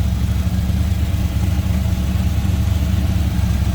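A 1933 Ford Victoria street rod's 350 small-block V8 idles up close with a loud, steady, throbbing rumble and no voices over it.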